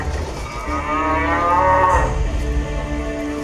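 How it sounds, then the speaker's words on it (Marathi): A cow moos once in a long, loud, drawn-out call that swells and fades, close by with no talking. "धुक्याच्या पडद्याआडून त्याची लाडकी गाय परत येताना दिसली"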